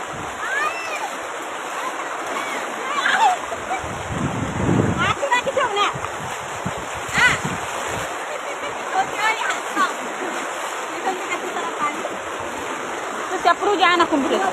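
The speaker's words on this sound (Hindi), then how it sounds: "देखो ये दुईतरणी नदी है" The flooded Duitarani river rushes and splashes continuously, a broad, loud roar of moving water with wind buffeting the microphone while a person talks over it.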